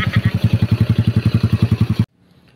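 Stock underbone motorcycle engine running with an unusual noise, a steady rapid pulsing chug with clattering that cuts off abruptly near the end, leaving faint background noise.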